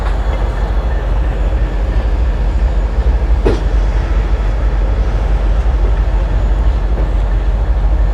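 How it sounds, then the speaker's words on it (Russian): A train pulls slowly out of Voronezh station, giving a steady low rumble and faint wheel clatter up close, continuous and unbroken by speech. "Тут поезд уходит, медленно уходит со станции Воронеж поезд"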